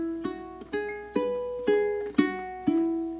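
Ukulele gives a quick opening strum, then single plucked melody notes from "Nessun Dorma" follow one by one at a slow, even pace, soft and close with no one speaking.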